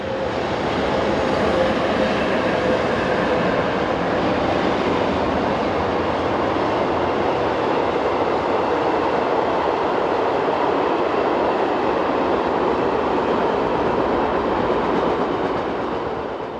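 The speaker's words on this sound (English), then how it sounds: "The same train is seen just a kilometre further on." Passenger train rolling past near Payerbach-Reichenau, a continuous broad roar and rumble of wheels on rails holding steady for the whole stretch, loud and close, no talking.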